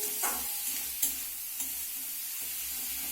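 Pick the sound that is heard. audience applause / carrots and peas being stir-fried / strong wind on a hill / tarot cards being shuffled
carrots and peas being stir-fried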